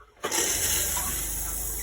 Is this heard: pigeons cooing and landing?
no